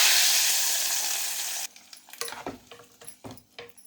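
Whole spices, green chillies, onion, dried red chillies and curry leaves sizzling loudly in hot oil in a kadai, a steady bright fry that cuts off and gives way to softer, sporadic crackles and stirring sounds.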